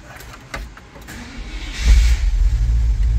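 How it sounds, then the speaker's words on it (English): A 1989–1998 Chevy/GMC pickup, hotwired through an aftermarket ignition, cranks briefly and then catches, its engine settling into a loud, steady close-up idle with no talking. "and the vehicle starts"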